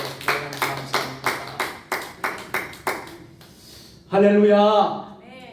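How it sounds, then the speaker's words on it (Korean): Congregation clapping together in a steady, even rhythm at a Wednesday church service, about three claps per second, followed by a voice speaking after the clapping stops. "하나님께 영광의 박수를 올려드리겠습니다."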